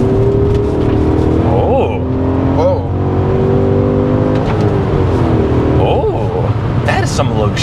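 An E39 BMW M5 with a manual gearbox revs hard while accelerating on a straightaway, heard from inside the car as a loud, rising engine note with several gear-change dips and climbs, and a brief exclamation from an occupant.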